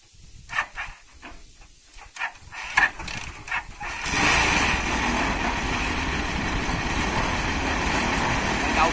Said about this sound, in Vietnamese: Đây cũng là lần đầu tiên mình chạy xe ba bánh luôn á mọi người